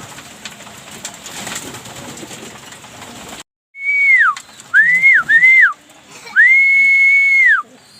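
Young racing pigeons on a rooftop in Binangonan, Rizal, give several loud, thin, rising-and-falling whistling calls in quick succession, after a stretch of steady rain-like hiss.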